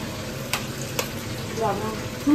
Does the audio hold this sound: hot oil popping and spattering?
yes